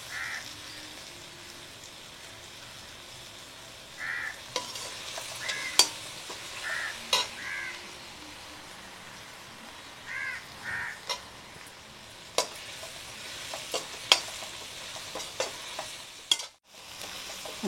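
Green chillies frying in a pan over tomatoes in a village kitchen, a steady low sizzle with occasional stirring scrapes; crows caw faintly in the background at intervals.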